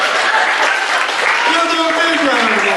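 Banquet guests applaud during a recognition ceremony, a steady wash of clapping mixed with voices and cheering throughout.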